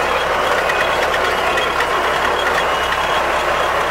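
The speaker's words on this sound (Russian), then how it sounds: "зуммер сработал, то есть рулон уже э, бункер набился, рулон сформировался" A CLAAS hay baler's full-bale warning buzzer sounds a steady electronic buzzing tone continuously over the rumble of a running engine, loud and close, with no pauses.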